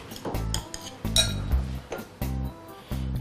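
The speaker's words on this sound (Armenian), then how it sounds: "Մանր կտրատում ենք նաև մաղադանոսը։" A knife finely chops parsley on a cutting board, quick rhythmic thuds in short bursts with brief pauses, close and fairly loud.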